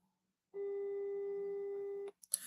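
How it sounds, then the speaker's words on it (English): A steady electronic phone tone holds for about a second and a half, then cuts off, followed by brief clicks and faint noise. "It's not picking, it's ringing."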